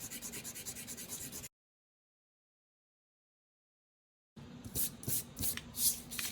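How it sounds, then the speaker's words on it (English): Pencil lines on paper are rubbed out with an eraser in quick, soft scratchy strokes close up, broken by a stretch of silence before the rapid rubbing resumes. "Now I'm going to take my eraser and I am going to erase my lines."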